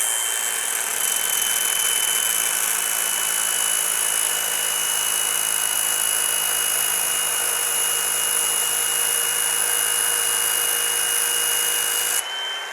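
Power tool cutting through a Suzuki DR650 motorcycle exhaust pipe: a loud, steady high-pitched grinding whine held for about twelve seconds before it cuts off, with no talking.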